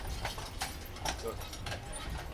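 Horses' hooves clip-clopping on a street in historic Wilmington, North Carolina, a steady rhythm of hoof strikes under ongoing outdoor noise and talk.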